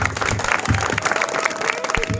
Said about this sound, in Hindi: आगे को लगे जोरदार ताली दे दो